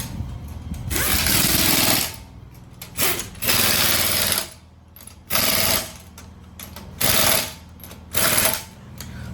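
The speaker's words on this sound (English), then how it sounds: "they use all the pneumatic tools." Pneumatic tools at a tyre shop changing tyres on a Suzuki Swift ZXi: repeated loud, rattling bursts, each lasting one to two seconds, separated by short quieter pauses.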